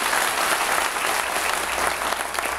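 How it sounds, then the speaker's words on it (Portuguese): An audience claps as fast and as many times as possible, a dense, loud, continuous burst of rapid hand claps filling the whole stretch. "Esse é o aplauso."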